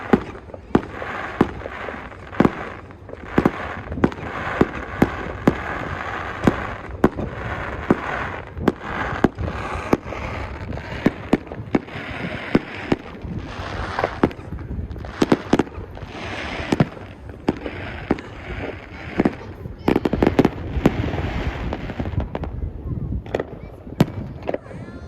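Fireworks in a high-level Alberta display burst in a rapid, irregular series of sharp, loud bangs and crackles, some close and booming, with occasional people talking between the blasts.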